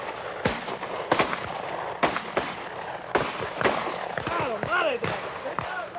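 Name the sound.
gunshots during a bird hunt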